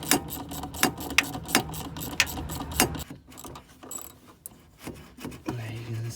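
A T-bolt clamp being tightened on the boost pipe of a Fiat Grand Punto 1.9 diesel turbo: close, rapid ratchet clicks in a steady rhythm for about three seconds, then sparser metallic ticks and handling noises.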